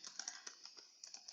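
Fingers type on a computer keyboard during a command-line active reconnaissance lab, a quiet, uneven run of crisp key clicks heard alone.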